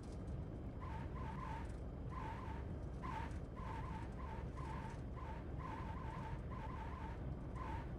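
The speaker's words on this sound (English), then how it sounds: "I don't like the sound of those brakes" Brakes on a Cirrus SR20 squeal during landing rollout in the X-Plane 11 flight simulator, a series of short, repeated high squeaks over a steady low rumble of rolling and engine noise, fairly quiet overall.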